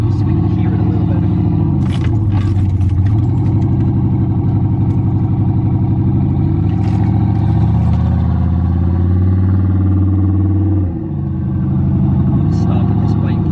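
A turbocharged LS-swapped Envoy revs up through the gears with a loud, close engine drone that climbs in pitch, drops at a shift and climbs again, with voices talking over it.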